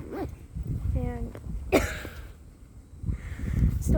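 Coughing outdoors on a college campus, a few short harsh bursts near the microphone with a louder cough in the middle, set against steady outdoor background noise and no talking.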